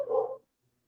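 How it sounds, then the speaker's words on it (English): A single short dog bark, close and fairly loud, lasting under half a second and followed by silence. "Tell them dogs to shut up."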